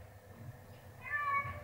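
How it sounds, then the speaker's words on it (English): A cat indoors gives a single clear, drawn-out meow close by, after a brief quiet stretch with a low background hum. "What are you meowing for?"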